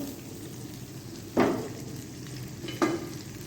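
Butter melts and fries in hot oil in a pan, a steady soft sizzle broken by two brief louder crackling bursts as the pan is stirred, with no talking.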